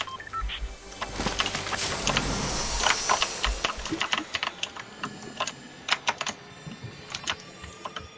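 A loud computer keyboard clatters with rapid, uneven keystrokes, dense early on and then thinning into separate sharp clicks near the microphone during a Fortnite session.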